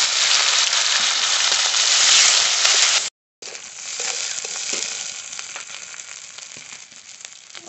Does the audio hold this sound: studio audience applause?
no